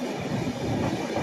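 A passenger train runs at speed, its wheels and carriages giving a steady close rumble with faint rhythmic clatter, no voices.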